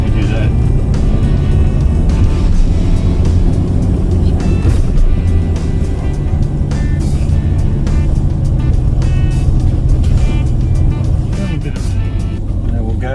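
A Jaguar XJS V12 rolls gently downhill, its engine a continuous low rumble close by with steady loudness, while someone talks over it.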